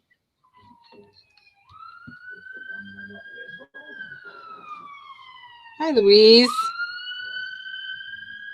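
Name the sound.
emergency vehicle sirens passing outside near hospital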